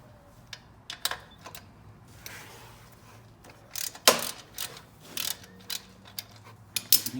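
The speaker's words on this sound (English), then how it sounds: "So now we're going to unbolt these 2 8mm bolts that hold these little brackets, clamps, U-clamps, whatever you want to call them." Two 8mm bolts on the brake clamps of a Raptor 700 ATV are loosened with quick, close ratcheting clicks in short bursts, separated by quiet pauses and light metallic handling.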